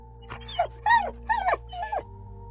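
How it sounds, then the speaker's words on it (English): A dog yelps several times in quick succession, sharp, high whimpering cries that rise and fall, close and fairly loud, as it's struck or frightened while lunging to attack. "the dog yelped."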